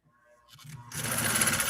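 A Nordic Husqvarna Automatic sewing machine runs a cam-selected decorative stitch, starting from quiet clicks and quickly building to a loud, fast, steady whir up close.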